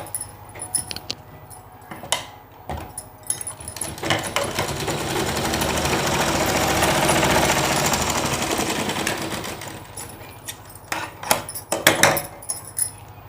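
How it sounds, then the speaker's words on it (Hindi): A sewing machine runs in one continuous burst, stitching a double-folded seam on a four-panel petticoat, with scattered clicks and handling taps of the fabric before and after. "ऐसे डबल फोल्ड करके सिलाई लगाना है"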